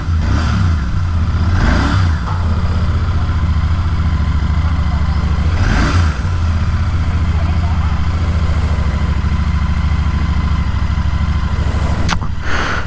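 A Royal Enfield Interceptor 650 motorcycle idles steadily after a cold start, a loud, close, even low thrum with a faint periodic pulse and no talk over it.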